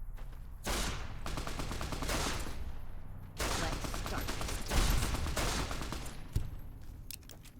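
Pistol shots from Fallout New Vegas crack out in separate loud bursts with rattling tails, spaced a second or two apart over quieter game ambience.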